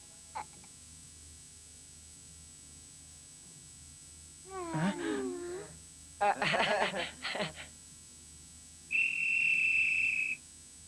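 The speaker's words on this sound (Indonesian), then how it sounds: "ternyata peluit menandakan selesainya paruh babak" A sustained high-pitched referee whistle blast marking halftime in an animated soccer cartoon, near the end, following bursts of animated cartoon-like voices.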